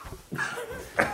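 A man gives a couple of short, throaty coughs, close and fairly loud, with brief pauses between the bursts.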